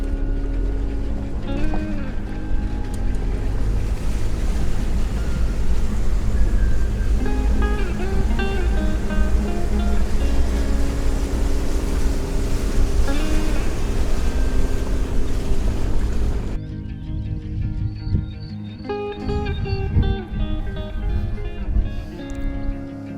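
An offroad vehicle fords a shallow river, its engine droning loudly over splashing and churning water for most of the stretch before the sound abruptly drops to quieter engine noise and water.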